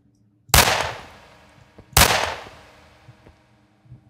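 Two loud gunshots from the horror video game Unspoken, set in a church cultist home invasion, about a second and a half apart, each a sharp blast with a long decaying tail, followed by faint clicks.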